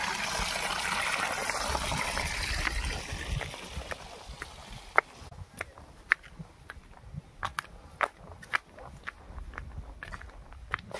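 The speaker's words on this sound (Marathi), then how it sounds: "नळाला पाणी आलं बघा," Tap water runs into a bucket in a village yard as a steady hiss that fades after a few seconds, followed by scattered sharp clicks and knocks.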